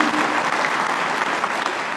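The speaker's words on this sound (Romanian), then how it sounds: "Haideți să-l aplaudăm!" A crowd at a political party gathering in Ilfov applauds, a dense, steady wash of many hands clapping at even loudness for the whole stretch.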